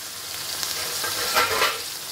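Boiled sweet corn is stirred into a mixture, giving a brief scraping rustle with a soft sizzle-like hiss under it, two slightly louder stirring strokes near the end.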